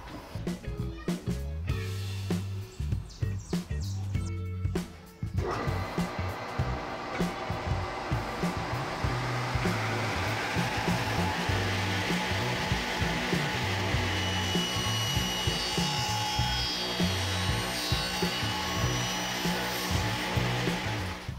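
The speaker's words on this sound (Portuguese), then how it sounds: "Então eu vou meter na máquina ali um cortezinho aqui, ó, e vai ficar um filetezinho" A power saw cuts a thin strip off a wooden board for a motocross diorama, a loud steady whine with a harsh rasp running the whole time, after a few seconds of choppy start-and-stop bursts.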